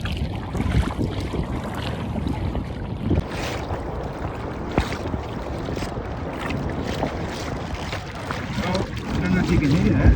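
Surging Southern Ocean waves and gusting southerly wind roar against the microphone at the Murray River mouth, with rumbling buffets and a swell rising near the end.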